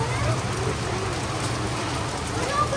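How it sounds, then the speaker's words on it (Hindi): Heavy rain pours steadily in Dehradun, a dense, continuous hiss of drops hitting surfaces close by, loud and unbroken throughout, with no voices over it. "और ऐसी आ गई बारिश।"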